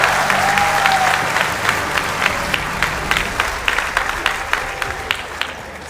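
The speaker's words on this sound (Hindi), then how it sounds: "और इस बार आपकी तालियां उठेंगी" Steady audience applause from a crowd at a Hindi poetry recitation, with dense overlapping clapping and a few sharper claps standing out throughout, fairly loud and continuous with no talk over it.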